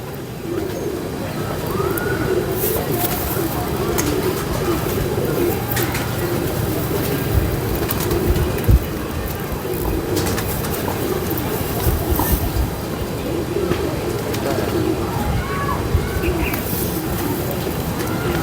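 Ferozpuri pigeons coo and murmur throughout amid a busy, rumbling background, with occasional faint voices and clatter.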